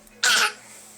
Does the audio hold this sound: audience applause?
no